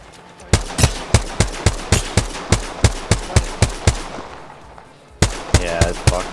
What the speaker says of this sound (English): Shoot at him.